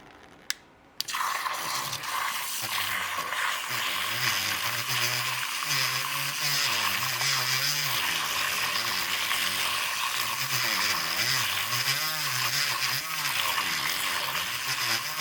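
A small electric whisk whirs continuously, blending honey into iced matcha lemonade with a wavering motor hum and sloshing liquid, loud and close throughout.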